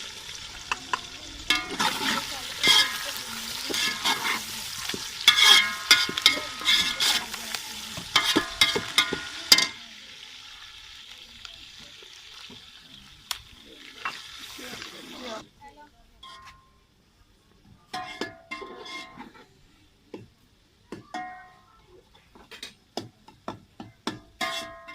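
Garlic and vegetables for masoor pulao sizzle loudly in hot oil with stirring clatter, fading after about ten seconds to quieter intermittent frying and scraping, while a person talks over it.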